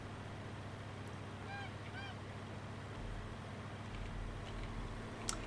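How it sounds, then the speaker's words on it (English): Poultry calls from a farm in Farming Simulator 19's alpine setting sound faintly in the background, a few short honking or clucking bursts over a steady low engine drone. "Every time I hear those chickens, and you can hear them in the background"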